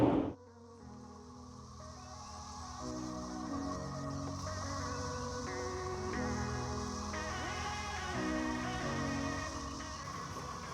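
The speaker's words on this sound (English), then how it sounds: "the cicadas are really loud here" A dense, steady insect buzz drones continuously, fairly loud, with a shifting tonal hum running underneath and no voices.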